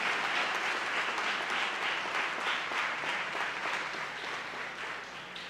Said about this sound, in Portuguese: Vale até uma salva de palmas para Jesus.